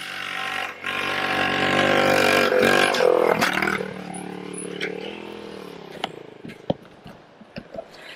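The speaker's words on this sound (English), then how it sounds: "Alex is now coming on the Z50" A vintage 1980 Honda Z50 minibike engine revs steadily as it rides toward a steep, sharp dirt jump, then the note drops away, followed by scattered clatter and thuds from the landing.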